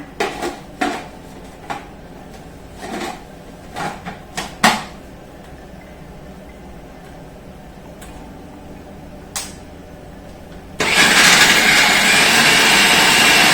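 Garlic and shallots go into a blender for beef meatballs: light clinks and knocks of handling come first, then the blender switches on near the end with a loud, dense grinding whir.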